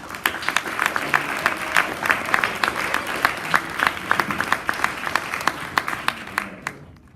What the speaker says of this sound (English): So I want to give a big round of applause to Mr. LiWayne.